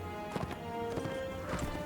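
Horse hooves in the video game Mount & Blade: Warband, a steady galloping clip-clop of several quick hoofbeats over a constant background battle hum, fairly faint.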